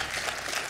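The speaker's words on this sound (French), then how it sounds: "J'applaudis avec Farid" A TV quiz show studio audience claps for a contestant, a short wash of dense, steady applause.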